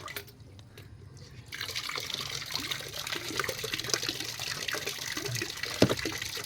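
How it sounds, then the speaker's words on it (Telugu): Fermented banana and jaggery solution being poured and stirred into a tub of water on a terrace garden, giving a steady close splashing and dripping wash after a quieter start. "ఇప్పుడు దీన్ని కొంచెం తీసుకొని వాటర్లో కలుపుకుంటాను చూడండి."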